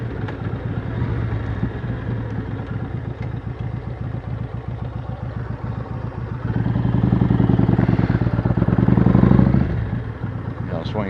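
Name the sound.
motorcycle riding through a parking lot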